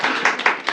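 Children in a classroom break into quick, brief clapping, several close, bright hand claps in uneven bursts lasting under a second, with no speech over them.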